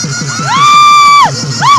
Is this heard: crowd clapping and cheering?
yes